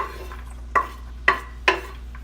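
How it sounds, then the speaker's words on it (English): Onion cooking in a pan and being stirred, with three sharp utensil scrapes against the pan at roughly half-second intervals over a faint background hum. "Throw the onion in there first, so it smells yummy."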